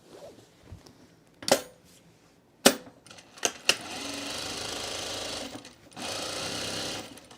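A sewing machine stitches a seam on a scrap-fabric mulch mat in short bursts, then runs in two longer steady stretches, loud and close, with clicks and handling noise between bursts.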